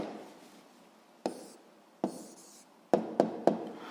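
A pen writes on paper in a quiet room: a soft scratchy stroke, then a few short, sharp taps and strokes in an uneven rhythm, close and fairly faint.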